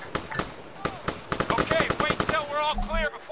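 Arma 3 battlefield with rapid bursts of close automatic gunfire in quick clusters, shouting voices mixed in and over the shots.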